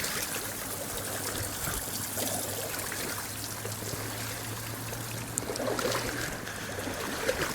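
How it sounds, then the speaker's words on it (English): River water flowing over rocks in a fast, roughly 30-foot-wide winter grayling river after floods, a steady close rushing wash with a low hum beneath and no talk. "River's about 30 foot across, and it's a long straight glide, fast at the top"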